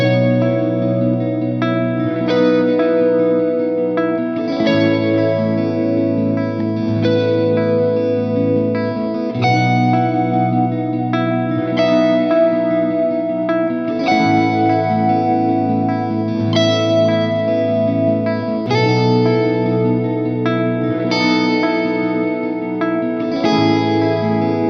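Electric guitar with effects, chorus, echo and reverb sounds the same bare intervals over two alternating chords, sustained and steady with no melodic rhythm, loud and close throughout.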